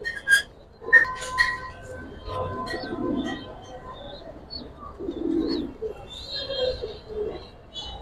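Giribaz coloring and pangkhi pigeons coo softly in low murmurs over several seconds, mixed with scattered wing flutters, clinks and light movement sounds nearby.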